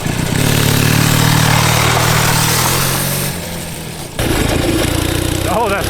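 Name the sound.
twin cylinder junkyard mini bike engine running through gears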